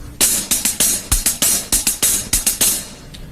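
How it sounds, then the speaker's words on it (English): A drum kit repeats a one-beat ostinato of an 8th note followed by two 16th notes, with loud, crisp hits in a steady, evenly grouped rhythm and no voices. "Say you had an 8th note and 2 16th notes."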